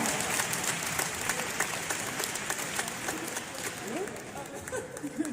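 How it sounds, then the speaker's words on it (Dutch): A talk show audience claps and applauds, a dense, loud patter of many hands that carries on steadily throughout, with faint crowd murmur underneath. "Applaus voor haar, maar dat was geweldig."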